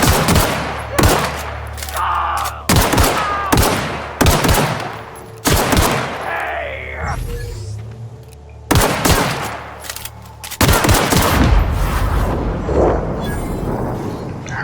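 Repeated loud bursts of gunfire in The Outer Worlds video game, several sharp volleys separated by brief pauses, each followed by a rumbling, echoing decay.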